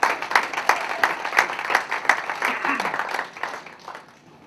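Clapping from a small audience at a political fundraiser for a state representative candidate comes in distinct, fairly regular claps that thin out and fade toward the end, with a voice briefly audible underneath.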